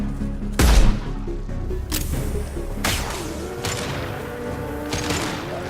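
Concussive shot and gunfire in the sci-fi shooter Mass Effect 2: a heavy booming blast opens, followed by repeated sharp shots spaced about a second apart, loud and close with a ringing tail.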